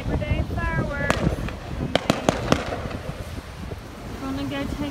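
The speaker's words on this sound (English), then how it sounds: "Labor Day fireworks." Labor Day fireworks crack and pop in a loose series of sharp bangs, a few louder close blasts standing out, with people talking over a noisy outdoor background.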